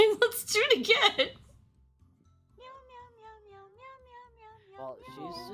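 Cartoonish cat meowing set to a tune in the Golf with your Enemies video game, a run of pitched meows after a burst of speech, with voices returning at the end.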